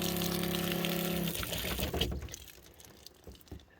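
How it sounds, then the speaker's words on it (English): Water from a tap fed by a 12-volt battery-powered pump at an off-grid homestead, running with a steady pump hum at first, then settling into a softer splashing, trickling flow that fades toward the end. "whenever I want water, I just open up the tap here"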